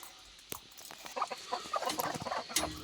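A native country hen clucks in a quick run of short, close calls after a couple of sharp knocks, moderately loud, no talking.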